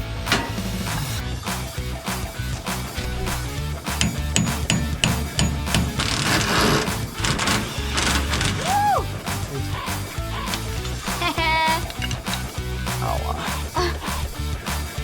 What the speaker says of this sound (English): Make sure you hit that with the hammer first